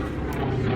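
A small personal propeller plane passing overhead near Cable Airport, a steady broadband drone with low engine rumble filling the brief moment, fairly close and without speech.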